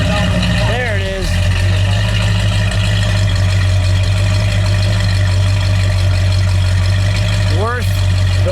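A 1970 Ford Torino with a 429 Cobra Jet engine idles steadily in a deep, even rumble close by, with brief voices and faint background sounds over it.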